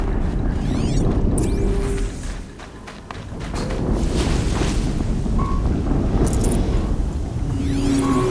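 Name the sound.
explosion in video game Horizon Zero Dawn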